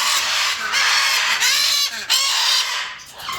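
Blue and gold macaws calling loudly and continuously in an aviary, harsh raspy squawks overlapping one another with no pauses and no talk.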